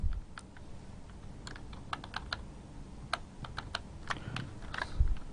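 Quick, light keystrokes click on a computer keyboard as assembly language code is entered in Visual Studio, with irregular taps of varying speed over a quiet room hum and no talking.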